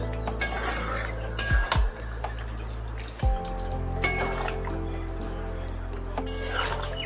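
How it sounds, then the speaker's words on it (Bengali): Chicken is stirred and mixed with stone-ground spice paste in a metal pot; a spoon scrapes and knocks against the vessel in a few distinct clanks over a low, steady background hum. "সমস্ত মাংসকে মশলার সাথে ভালোভাবে মিশিয়ে নিতে হবে।"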